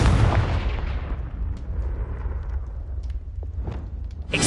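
A Confringo spell explosion in Hogwarts Legacy, a loud close blast that decays into a long rumbling tail, followed by faint scattered crackles and another rising burst at the end.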